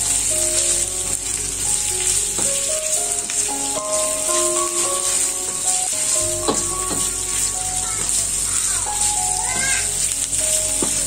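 Chicken liver and gizzard frying in a pan, a steady bright sizzle throughout with occasional clinks and stirring scrapes of a utensil, close and continuous, alongside faint background voices.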